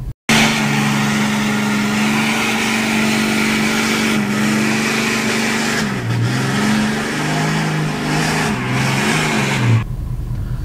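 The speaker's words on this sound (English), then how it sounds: "Of my brother-in-law and his Ram 3500 doing one burnout with a tuned Cummins with the 68 RFE" A tuned Cummins diesel Ram 3500 with a 68RFE transmission doing a burnout, its engine roaring loud and steady with rising and falling revs before cutting off near the end.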